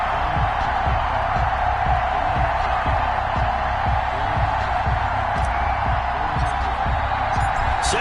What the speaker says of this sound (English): This crowd is ready as their guys get set to match up between the Philadelphia Eagles and the Carolina Panthers.